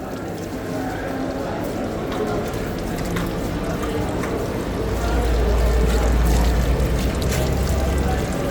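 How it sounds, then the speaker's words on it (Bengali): Running water splashes steadily at a hotel washbasin as hands are washed, a loud continuous pour that grows heavier toward the end, with faint voices in the background. "আমরা এখন আসছি হাত ধুতে তো হাতটা ধুয়ে নিতেছি"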